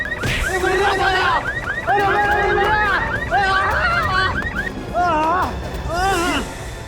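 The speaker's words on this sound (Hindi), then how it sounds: "सायरन किसने बजाया?" A warbling electronic siren wails in repeated rising and falling bursts, loud and close, with voices murmuring underneath, in a TV crime drama.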